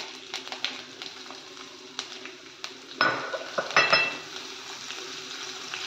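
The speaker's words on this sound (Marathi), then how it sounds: "कढीपत्ता चांगला भाजला गेला की मग टाकते आहे मिरच्या" Curry leaves and cut chillies fry in hot oil for a traditional Maharashtrian panchamrut chutney, a steady close sizzle dotted with sharp spoon clinks and a louder crackling burst partway through.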